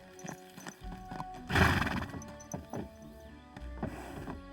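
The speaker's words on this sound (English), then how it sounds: "Here you go, horsey." A horse in Kingdom Come: Deliverance II gives a loud, close neigh, with hooves thudding and shuffling around it in short irregular bursts.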